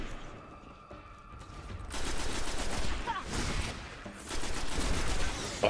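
Gunfire in the shooter video game Destiny, a dense run of rapid shots and bursts that grows louder after the first couple of seconds, with short pauses between volleys.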